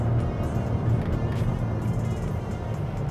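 A 2022 Toyota Hyryder Hybrid accelerates from standstill toward 100 with traction control off, giving a steady low engine drone and road rumble heard from inside the cabin.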